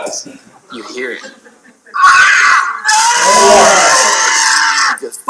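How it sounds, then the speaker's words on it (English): A rock climber lets out a piercing, sustained shriek during a hard climb, loud and raw, following a few seconds of quieter vocal sounds. "This eardrum breaking shriek."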